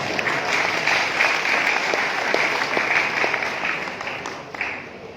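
A church assembly crowd applauds steadily, dense clapping filling the space at an even level before tapering slightly toward the end.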